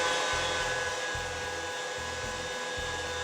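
A grinder runs steadily while grinding homemade cat food, a close, continuous motorized whir with a rhythmic low-end pulsing throughout, no voices.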